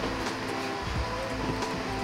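A tram in Rome rumbles in with a steady low drone and faint squeals, growing closer without any talk.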